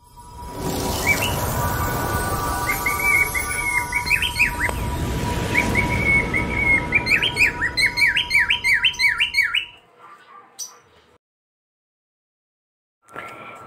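Pet birds in a home aviary chirp and squawk in steady overlapping calls, with a run of sharp repeated tweets toward the end before a brief lull and a final burst.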